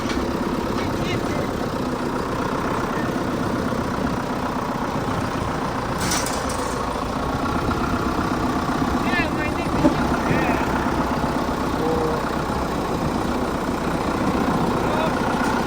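A steady, rumbling MTZ tractor engine idles continuously nearby while it lays a 5-tonne concrete slab, with voices talking intermittently over it.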